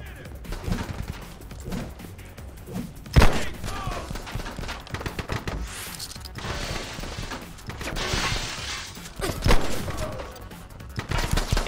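Pump-action shotgun fire in the shooter game The Club, aboard an ocean liner: a few sharp, heavy blasts stand out amid busy mechanical clatter and ambient game noise, spaced several seconds apart with pump racking between.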